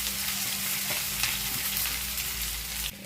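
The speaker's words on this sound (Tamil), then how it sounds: "வெங்காயம் வதங்கும் போதே உப்பு போட்டுடலாம்" Sliced onions sauté in hot oil in a pan with a loud, steady sizzle and crackle that stays close throughout, a slight drop near the very end.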